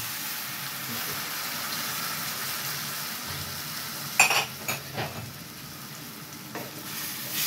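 Water added to a pan of frying beef and broccoli, steady loud sizzling with a burst of sharper hissing and stirring clatter midway, close and continuous.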